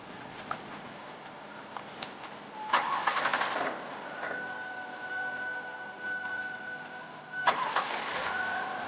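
A car engine cranks with a whirring starter, catches, and settles into a steady idle, with a second burst of revving later; moderately close with faint outdoor background.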